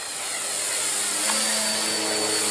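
A Flyzone Beaver radio-controlled model plane's electric motor whines steadily and loudly in flight, a continuous high buzzing drone that swells slightly, with no talk.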